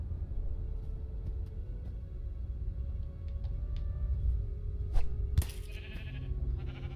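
A sheep in the Minecraft: Story Mode video game bleats once, briefly and close, over a low rumbling game background with no talking.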